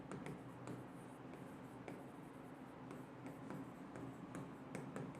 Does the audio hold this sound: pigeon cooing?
no